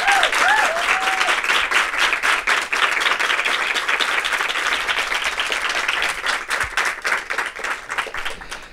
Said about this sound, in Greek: Δώστε το πιο θερμό σας χειροκρότημα.